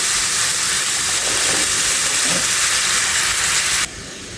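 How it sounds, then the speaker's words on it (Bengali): Hot water poured into a hot pan where fish was just fried gives a loud, continuous steam hiss that holds steady for several seconds before cutting off sharply near the end. "এখন আমি গরম জল দিয়ে দিচ্ছি"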